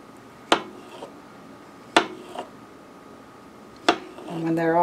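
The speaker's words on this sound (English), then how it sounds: "when they're already cooked, they sure are easy to slice" A knife slicing cooked golden beets against a cutting board gives three sharp, evenly spaced clicks with soft follow-up taps, close and fairly quiet, before a voice begins at the end.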